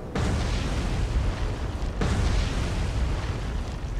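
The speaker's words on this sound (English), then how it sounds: "The other 2 have been struck by torpedoes." Torpedo explosions hitting ships in a naval combat video game, heard as two heavy, rumbling booms, the second starting about halfway through, each swelling into a loud sustained roar with no talk.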